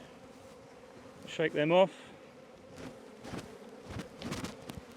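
Honey bees buzz around an open spring hive in a faint, close hum, with brief talking and a few knocks and rustles over the buzzing.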